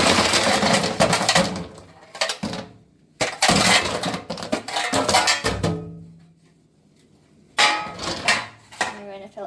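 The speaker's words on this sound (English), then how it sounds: "And now we're ready to put our ice in." Bursts of hard, clattering ice cubes tumbling into a metal kitchen sink for chilling blanched garden beans, several pours separated by short pauses, loud and close.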